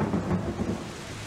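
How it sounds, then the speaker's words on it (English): Heavy downpour with rolling thunder in a tabletop game session: a dense, continuous wash of rain with deep low rumbling, steady and loud throughout. "It's been quite a while since we've had such a downpour such as this."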